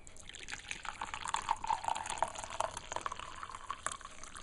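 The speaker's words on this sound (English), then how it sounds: "I'll pour it into a cup." Ginger infusion poured into a cup, a quiet continuous trickle of liquid with small splashes and drips, close and soft, with no talking.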